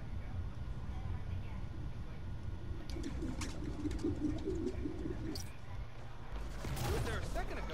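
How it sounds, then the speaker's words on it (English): Pigeons coo in low, soft bursts against a steady ambient background in the video game Marvel's Spider-Man: Miles Morales, with a few brief sharper noises breaking in. "There's a lot of birds around here."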